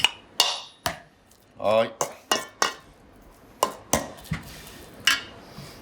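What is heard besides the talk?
mashing cabbage in a pan for trinxat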